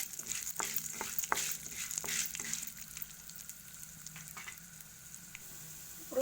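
Urad dal fries in oil with a soft, close sizzle and a few spoon taps and scrapes early on, then fades to a quieter steady hiss.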